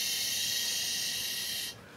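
A steady, breathy hiss of air blown through a tin whistle with one hole covered, lasting under two seconds before it cuts off, with no clear note sounding.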